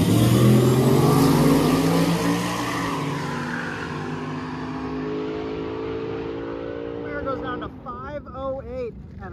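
Drag racing pair of a truck and a stout Camaro launching side by side down the strip, loud engine roar with rising harmonic tones sustained for several seconds, fading as they pull away, with a voice speaking toward the end.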